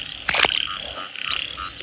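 Frogs croak in a rice paddy at night, with a loud, close burst of rasping calls followed by fainter steady croaking in the background.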